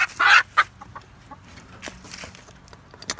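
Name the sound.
chicken clucking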